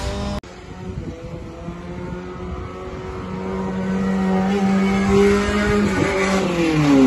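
A rental car revs hard while trying to tow another car out, the engine note rising and holding strained and loud after a sharp knock at the start, growing louder toward the end.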